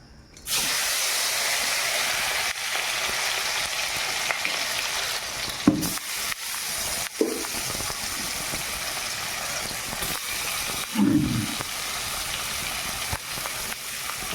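Onions and tomatoes hit hot oil in a wok and set off a loud, steady frying hiss, with a few clacks of stirring along the way.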